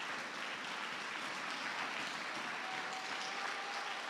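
A church congregation applauds the Lord during a French-language sermon, giving a steady, dense wash of clapping that runs throughout at moderate distance, with no clear voices on top.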